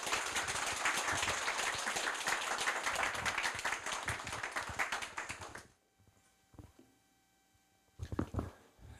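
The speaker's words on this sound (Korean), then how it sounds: "박수로 환영해 주시기 바랍니다." A lecture-hall audience at Korea University applauds to welcome Professor Shin Young-ho for his retirement farewell lecture, steady dense clapping for about six seconds before it stops abruptly, followed by quiet room noise and a few scattered claps.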